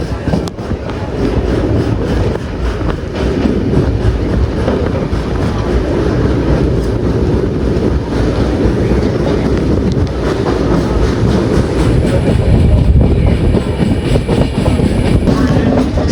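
Steady loud rumble of the Tirunelveli–Jamnagar Express passenger train running on rails in Kerala, between Tirur and Kozhikode, with continuous rolling clatter throughout and no clear voices.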